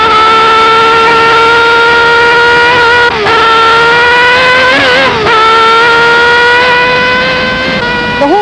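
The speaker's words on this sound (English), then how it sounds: "You're accelerating round this corner." A 1973 racing car accelerates hard out of the Nürburgring Nordschleife Carousel corner, engine howling loud and close in a sustained rising whine with brief dips at gear changes.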